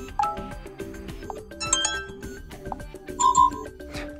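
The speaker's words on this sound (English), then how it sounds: "And here we have list of ringtones." A melodic electronic ringtone plays on an Acer Iconia One 10 tablet, with chiming tones and bright tonal notes in a bouncy, repeating pattern at moderate volume.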